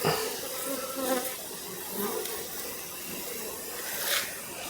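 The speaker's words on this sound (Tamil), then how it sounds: "இதுதான் அடுக்கு தேனி குடும்பம் அதாவது நம்ம நாட்டு தேனின்னு சொல்லுவோம்" Native Indian honey bees swarm over an open brood chamber frame in a beekeeping box, a steady dense buzz holding throughout with small swells, close and fairly loud, with no talk over it.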